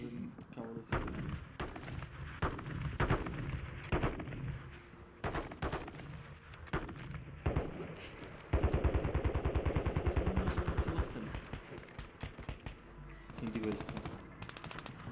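Automatic gunfire in a video game, with repeated rapid bursts through much of the clip and a long sustained burst in the second half, heard alongside game sounds and a voice talking.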